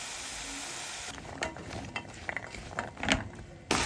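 Onion, peas, carrots and green beans sautéing in a pan, a soft sizzle with scattered stirring scrapes and utensil clinks against the pan, close and without talk.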